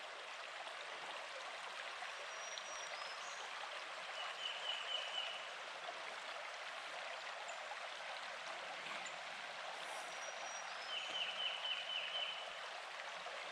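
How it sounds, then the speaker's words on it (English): Creek water flows steadily in a soft, continuous rush, with a few faint bird chirps over it. "we are still walking beside Dog Slaughter Creek"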